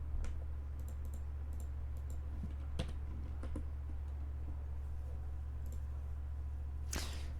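Typing on a computer keyboard while coding a game engine: sparse, irregular key clicks and a sharper click near the end over a steady low electrical hum, with no voice.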